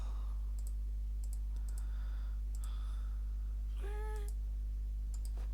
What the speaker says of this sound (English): It kind of sounds like a cat.